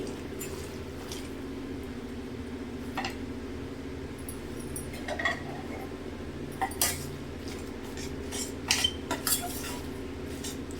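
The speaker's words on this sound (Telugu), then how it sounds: "వంకాయని మెత్తగా కొంచెం ముక్క చెక్క అయ్యేలాగా నలుపుకోవాలండి" Roasted eggplant being mashed and mixed for Andhra-style pachi pulusu, with soft squishing and scattered clinks of a utensil against a dish over a steady low background hum, close up and without talk.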